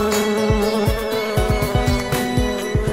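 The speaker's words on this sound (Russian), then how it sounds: "Откуда здесь эта оса?" A buzzing wasp in an animated children's song, the insect drone weaving over a bouncy musical backing with regular plucked beats, steady and fairly close for the whole moment.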